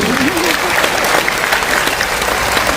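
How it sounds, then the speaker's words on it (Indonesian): A burst of steady clapping from a crowd at a Catholic revival service fills the whole stretch, loud and close, with no pauses. "Tepuk tangan, betul."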